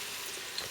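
Seasoned chicken pieces browning in a pot, a steady close hiss of sizzling with no voices, lasting under a second.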